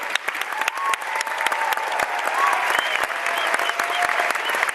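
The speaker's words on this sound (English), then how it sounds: "have you join me in a round of applause and appreciation for Nanette Brenchley, Doug Brenchley, and Ryan Naylor" A round of applause at an evening staff-appreciation gathering, steady dense clapping from a modest audience for nearly five seconds, fairly close, with no shouting.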